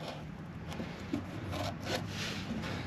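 Metal being trimmed on the rocker panel of a 2000 Chevrolet Silverado 1500 extended cab, a close, rough continuous rasping grind with slight surges in intensity.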